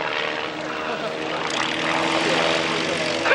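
A steady, droning 300-horsepower propeller aerobatic airplane engine roars continuously at an airshow at Wroughton Airfield, fairly loud, with a slight swell in intensity toward the end.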